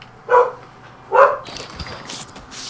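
A dog barking in the game Infamous Second Son: two distinct, fairly loud barks about a second apart, followed by quieter scuffling and faint background sounds.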